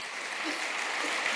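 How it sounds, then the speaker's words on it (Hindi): Applause for Ajeet Sharma at a Diamond ceremony, a steady wash of clapping from a crowd that holds evenly through the short stretch without a break. "जोरदार ताली एक बार ये अजीत जी के लिए।"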